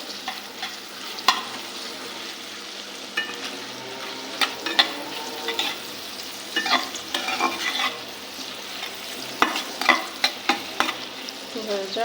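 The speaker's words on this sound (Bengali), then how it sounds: "কলার তরকারিটা আমি এইখানে রান্না করতেছি ইলিশ মাছের" Banana curry cooked with hilsa fish sizzles steadily in a pan, broken by frequent clinks and scrapes of stirring, with a brief spoken phrase.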